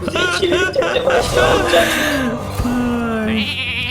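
Wavering bleats of a lamb in a video game over background game music and sound effects, with a voice talking alongside.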